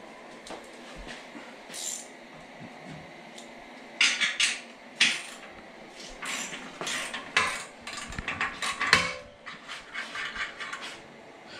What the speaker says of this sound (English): So we're going to go ahead and start with the hose clamp